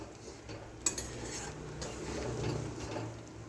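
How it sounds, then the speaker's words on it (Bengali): Ghugni curry in a pan is stirred after fresh coriander leaves go in, with soft, faint scrapes and light utensil taps over a quiet background. "আমি এবার ধনে পাতাগুলো দিয়ে দিচ্ছি আমি একটু ভালো করে নেড়ে দিলাম"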